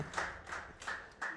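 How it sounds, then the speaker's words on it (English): At a speedrun charity event, a small audience claps in about four separated bursts, faint and somewhat distant, with no talking over them. "So clap for that."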